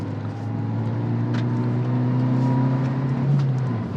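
Suzuki Jimny with a naturally aspirated engine accelerating, a steady loud drone with clear harmonic tones rising slightly, then easing near the end, no voices over it.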